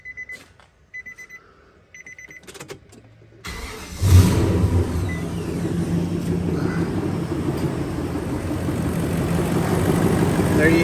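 A 2004-2015 Nissan Titan pickup, just fitted with a new starter, chimes a few warning beeps, then cranks and catches with a loud engine start, settling into a steady, smooth idle that builds slightly in level.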